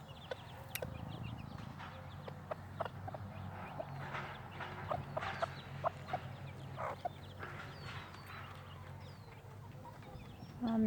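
Silkie chicks and chickens in an outdoor pen give soft, scattered clucks and high peeping chirps at close range over a quiet low hum of the surroundings.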